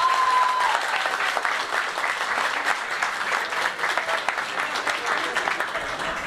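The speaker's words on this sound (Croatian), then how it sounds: "Jedan aplauz veliki za njih." A party crowd applauds steadily for the organizers, a dense wash of clapping that holds at a fairly even loudness for several seconds with a brief tone at the start.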